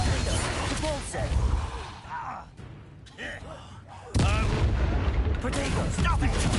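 Combat in the video game Hogwarts Legacy, with loud crashing, shattering blasts from the Confringo fire spell and booming impacts amid continuous battle noise, while voices shout over the action.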